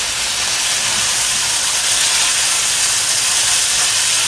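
Chicken frying in hot oil in a home kitchen pan, giving a steady, loud hiss of sizzling spatter that holds evenly from start to end.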